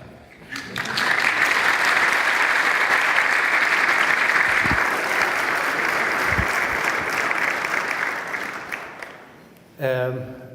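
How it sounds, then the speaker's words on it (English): Steady applause fills a church at a memorial ceremony for Pope Shenouda, loud and sustained for about nine seconds before fading, followed by a brief voice at the end. "I think we can clap."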